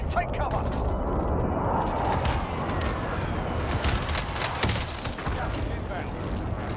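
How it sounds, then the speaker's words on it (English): Precision airstrike explosions in the Call of Duty Warzone video game: a sustained barrage of rumbling blasts and crackling detonations, loud and overlapping, with talk mixed underneath. "Enemy precision airstrike. Take cover."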